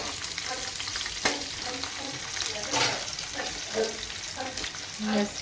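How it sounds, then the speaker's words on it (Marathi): Masala stuffing for a bitter gourd curry roasting in a pan, a steady close sizzle with repeated scraping stirs of a spoon throughout. "आता हे सगळं सारण भाजून घ्यायचं आहे"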